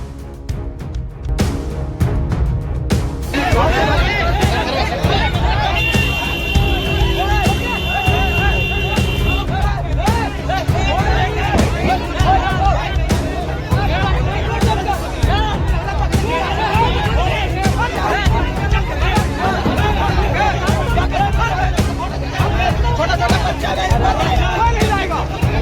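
Angry village crowd in Malawa, Nalanda district, chasing a minister: a dense, continuous roar of shouting voices and babble with vehicle noise, loud and sustained throughout, overlaid by a narrator's voice.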